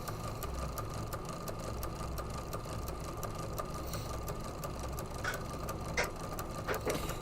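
A sewing machine stitches in the ditch around pattern pieces, a steady quiet hum broken by regular mechanical ticks, with a few brief sharp clicks near the end.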